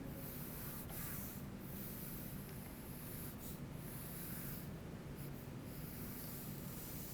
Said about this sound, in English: So I'm drawing a horizontal line here.